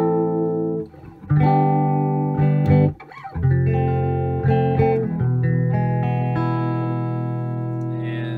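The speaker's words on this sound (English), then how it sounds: "I've hooked a guitar up to it. And this is without reverb," Electric guitar playing loud, dry chords and single notes that ring out with no echo; there is no talking.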